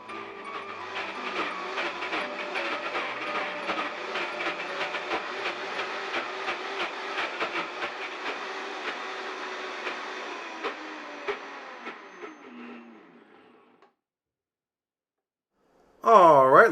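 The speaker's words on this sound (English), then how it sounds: "Continue using the tamper to press the almonds down into the blades until they fully turn into a butter" A Vitamix blender grinds almonds into butter while a tamper presses them down into the blades. A loud, steady, coarse whir runs for about fourteen seconds, then cuts out to silence, and a short burst of sound follows near the end.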